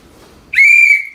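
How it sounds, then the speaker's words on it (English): A sharp, high whistle sounds once and is held steady for about half a second, loud and close, following a soft low rustle. "Whistle!"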